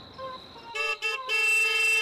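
A car horn honking nearby: a short toot, a brief break, then a longer sustained blast, loud and clear over light background noise.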